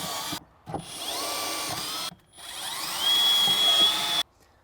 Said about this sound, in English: we're going to drill out the floor panel locations using the pre-drilled holes in the box.